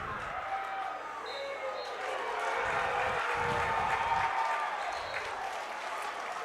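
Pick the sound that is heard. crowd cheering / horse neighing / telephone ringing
crowd cheering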